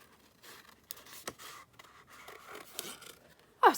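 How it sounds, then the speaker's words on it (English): Scissors snip around a sheet of painted book paper in a run of short, quick cuts, fairly quiet up close, with a sharper louder snip at the very end. "just going to cut around as quick as I can"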